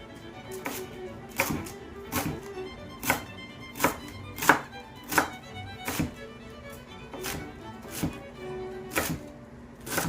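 A knife chopping food finely on a cutting board in a home kitchen: steady, evenly spaced sharp thunks, about one per second, close and clear, with no talking.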